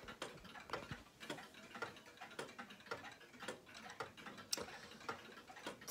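An 1820s New Haven OG 30-hour clock ticks steadily, its crisp, evenly spaced mechanical clicks close and quiet in a still room, with no voices.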